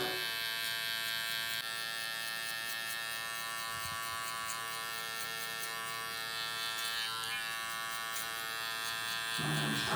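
A Babyliss Gold SnapFX hair clipper runs with a steady, close electric buzz that holds constant for the whole stretch, with no talking over it.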